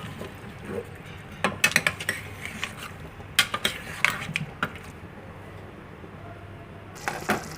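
Potato and pea biryani masala being stirred in a pot, with scattered metallic scrapes and clinks of a spoon against the pot rim, irregular and close, with no talking.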